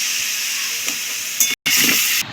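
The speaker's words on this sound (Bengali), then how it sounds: "এই মশলাগুলো দিয়ে ভালো করে নেড়ে ছেড়ে নেওয়া হচ্ছে" A steady, close sizzle of spices frying in a pan for vegetarian rice, with brief scraping stirs and a short break in the middle.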